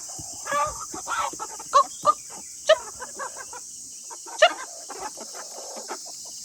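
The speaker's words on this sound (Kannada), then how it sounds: "ಇಲ್ಲಿ ನೋಡಿ ನಮ್ಮ ಕೋಳಿಗಳು ಜಗಳ ಆಡ್ತಾ ಇದ್ದಾವೆ" Chickens fighting squawk and cluck in sharp, agitated bursts, a few loud spikes among scattered calls, over a steady background hiss.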